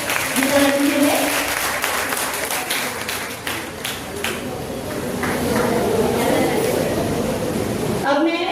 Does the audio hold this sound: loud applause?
yes